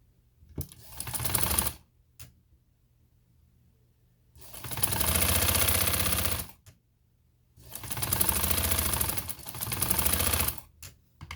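A sewing machine stitching a patch onto a garment neckline runs in three bursts of rapid, even mechanical clatter, separated by quiet pauses with small clicks, close and moderately loud.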